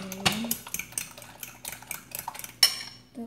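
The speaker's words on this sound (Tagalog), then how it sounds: "Haluin natin." A utensil scrapes and clinks around a bowl while stirring mashed banana with egg, an irregular close run of clatters and taps with a sharper knock near the end.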